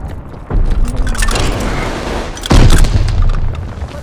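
A grenade detonates in the Call of Duty Vanguard beta on PS5 with a loud, close, booming blast near the end, after an earlier rumbling burst amid the game's background battle din.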